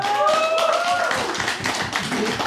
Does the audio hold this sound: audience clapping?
yes